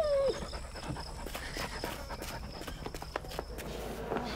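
A dog pants and shifts about close by, with soft footfalls and a brief whine at the start, all without speech.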